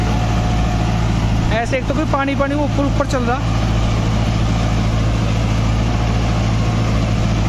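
A Novo 655 tractor pulling a 9-foot rotavator through a field, a loud, steady low engine drone running throughout while someone talks over it briefly near the start.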